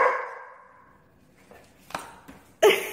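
A dog barks on command indoors, giving one sharp bark at the end after a few softer yips and shuffles, with a fading tone at the start.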